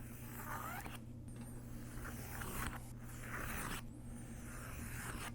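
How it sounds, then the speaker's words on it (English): An X-Acto knife draws along a ruler, slicing paper for a DIY book box; soft, close scraping strokes come quietly over a steady low hum, with no talking. "Line up the ruler with the edge that you want to cut, and then just follow along with your X-Acto knife."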